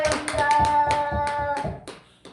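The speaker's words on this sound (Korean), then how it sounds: "박수 한번 칩시다." A church congregation at a Korean Wednesday evening worship service claps hands together in a brisk, even rhythm, close and loud, with a sustained tonal hum of music beneath and a final stray clap at the end.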